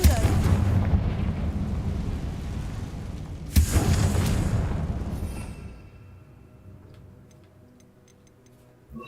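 Confringo fire spell blast in the Hogwarts Legacy video game: a loud booming burst with rumbling fire, a second sharp crack partway through, then fading to quiet game ambience.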